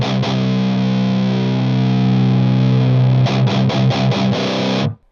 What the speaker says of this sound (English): Oh yeah, that's the Metal Zone we all know and love.